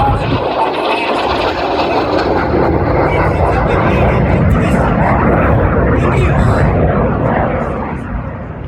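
A Red Arrows display jet, Red 9, streaks past at over 450 mph at the Shuttleworth airshow, a loud, sustained broadband jet roar filling the whole pass and easing off at the end, with a commentator's voice beneath it.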